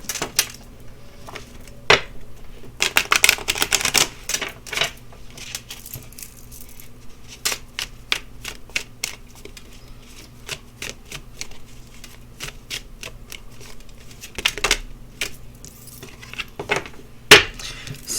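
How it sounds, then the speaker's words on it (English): Tarot cards shuffled by hand, with soft riffling and sharp slapping clicks in irregular bursts, close and fairly quiet over a low background hum. "Shuffle."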